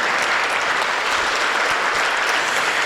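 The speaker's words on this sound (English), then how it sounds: "let's give them all a big round of applause." A breakfast event audience gives a round of applause, loud continuous clapping that stays even and full throughout, with no talk over it.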